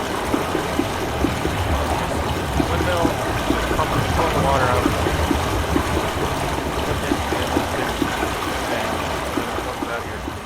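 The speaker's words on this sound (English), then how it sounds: "I definitely hear water in this pipe." Steady rushing, trickling water runs continuously through a pipe in the video game Myst, with a low rumble underneath and no clear voices.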